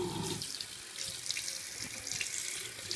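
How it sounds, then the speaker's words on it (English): Warm water runs steadily from a bathroom sink faucet, a continuous close hiss and splash that holds even throughout, with no talking over it. "first, you got to turn on the water. Make sure it's nice and warm."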